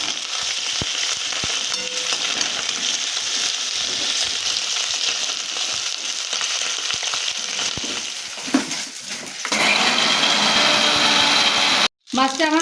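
Fish fries in hot oil with a constant crackling sizzle, broken by clatter as it is turned in the pan; the frying grows louder and harsher near the end after a brief pause.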